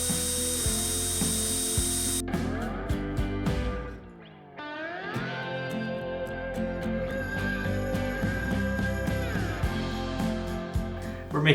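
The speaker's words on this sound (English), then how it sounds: "So now we need to bolt this down" A ratchet wrench clicks in quick bursts while bolting down parts on a KTM 450-powered buggy, with rapid rhythmic pawl chatter, metallic clanks and pauses between strokes, heard close up.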